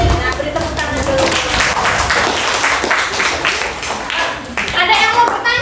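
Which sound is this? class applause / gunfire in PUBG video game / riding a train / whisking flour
class applause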